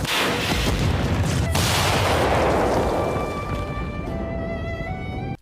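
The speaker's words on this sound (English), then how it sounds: "The final massive explosion from this series" A massive magical explosion in the anime KonoSuba: a loud, sustained roaring blast that fills the whole stretch, slowly fading into a rumbling tail with ringing tones near the end.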